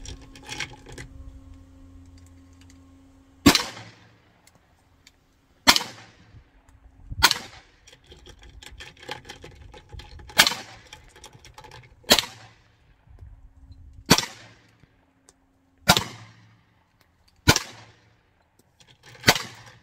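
A Glock pistol fires at a shooting range: about nine sharp, loud single shots, spaced roughly one and a half to two seconds apart, with quiet background between them.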